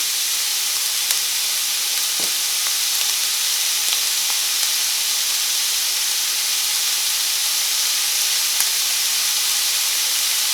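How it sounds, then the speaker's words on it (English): Bacon for Zuppa Toscana sizzles and spits in a pan, a dense, even frying hiss broken by a few faint ticks and pops. "I'm just going to kind of periodically check on the bacon to make sure that it doesn't burn, but we want it nice and crispy"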